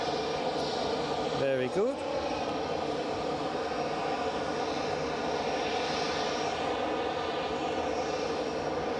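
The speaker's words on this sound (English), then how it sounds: "Delta 67 Delta is off to Boston." A Delta jet airliner departs Edinburgh for Boston, its steady engine roar loud and sustained across the scene, with people talking over it.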